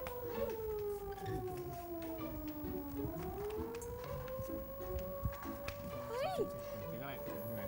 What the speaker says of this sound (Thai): เสียงหวออะไรอ่ะ ดังเหมือนรถดับเพลิงเลยอ่ะ